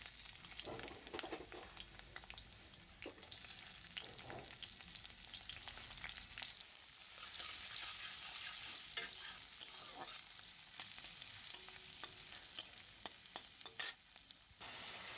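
Whole onions fry in hot oil in a wok, giving a continuous bright sizzle with occasional stirring scrapes. The sound is steady and close, with no talking.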